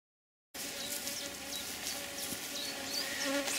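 Honeybees in an open hive built by the Rose hive method drone in a steady, close, continuous buzz during an inspection, with individual bees whining past now and then.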